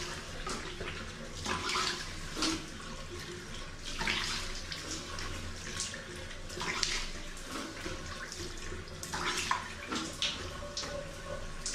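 Tap water runs into a sink while a face is rinsed after cleanser, splashing in repeated bursts as hands scoop and splash water, close and fairly quiet, with no talk.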